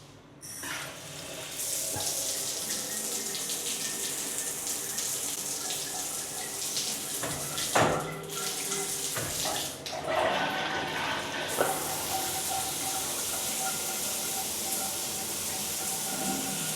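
A large hotel shower near a Pattaya beach runs with a strong, steady hiss of water that fills nearly the whole stretch, with a few brief splashes and shifts as the spray is adjusted.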